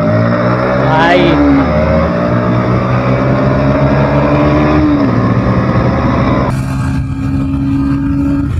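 A Bajaj Pulsar NS125 and a TVS Raider 125 drag race side by side, their engines droning loudly and climbing through gear changes with rising and falling revs, while people talk over the noise.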